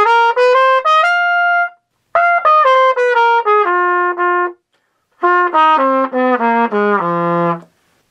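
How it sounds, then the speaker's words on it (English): A solo trumpet plays a bluesy F blues scale line using backbeat tonguing, with the first note slurred and the second tongued. It comes as three clear phrases separated by short pauses, up close and with no voices. "So what you can do is do a lot of backbeat tonguing"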